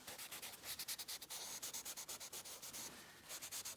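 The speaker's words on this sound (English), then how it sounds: "I'm blending out with tissue" Tissue rubs across a pencil sketch of a woman's face, blending the cheekbone shading in quick, regular back-and-forth strokes, soft and close with no talking.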